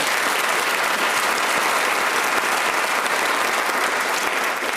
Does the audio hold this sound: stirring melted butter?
no